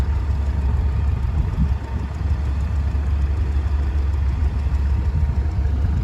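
A tractor engine runs steadily at a loud, close, even idle, with a deep low rumble and no clear revving, while it works on a rough contract-job track.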